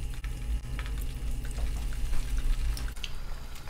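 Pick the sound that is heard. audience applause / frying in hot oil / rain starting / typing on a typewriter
frying in hot oil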